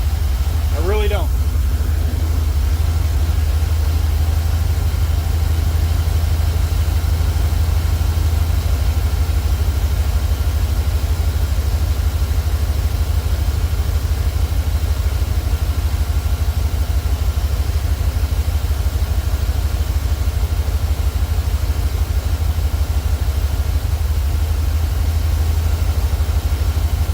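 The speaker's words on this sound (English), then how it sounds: "I'm going to let it idle for a while and see if it continues to run" A truck engine idles roughly with no fuel pressure, a heavy low rumble running continuously and close, with a short higher squeal or whine near the start.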